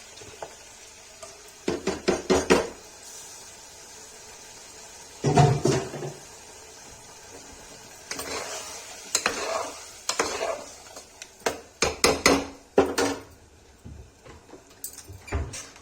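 Spices and tomatoes being sautéed and stirred in a pan for a Kashmiri matar aloo sabji, heard as intermittent bursts of spoon scraping and pan clatter over a low, quiet sizzle.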